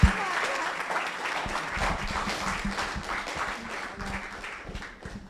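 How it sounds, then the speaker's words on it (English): An audience at a community conversation on substance use disorder applauds the three panel speakers, brisk clapping that starts loud and gradually thins, with some low thuds mixed in. "let's give another warm welcome and applause to our three folks that shared their stories today"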